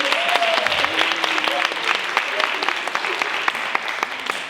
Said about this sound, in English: can we get a round of applause for this sister?